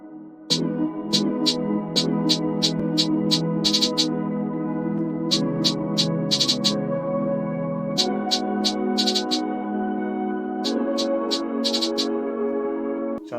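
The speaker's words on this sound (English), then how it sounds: "Sounds like this hi-hat's a little too strong" R&B beat programmed in FL Studio: sustained chords carry a steady, prominent hi-hat pattern in short repeating bursts, loud and close with no talking.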